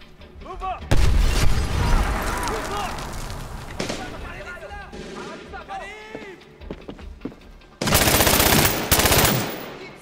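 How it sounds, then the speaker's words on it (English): Grenade blast and rattling machine gun fire in the shooter Medal of Honor Warfighter: a heavy boom followed by sustained loud bursts of automatic gunfire, with shouting voices and chaotic battle noise in between. "Ah, grenade."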